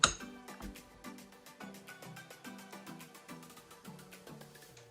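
A spoon clinks repeatedly against a bowl of Jamaican porridge made with oats, almond and plantain, a run of light, ringing taps at a steady rhythm, quiet and close, with no talk.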